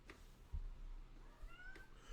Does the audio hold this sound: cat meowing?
yes